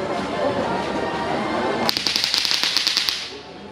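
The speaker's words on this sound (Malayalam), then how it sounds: "ഈ കിടക്കുന്നതാണ് ഇപ്പൊ സൗണ്ട് കേട്ടില്ലേ, പടക്കമാണ്" A string of firecrackers goes off at a Kochi Christmas market, a rapid, loud volley of sharp cracks lasting about a second and a half after steady background bustle.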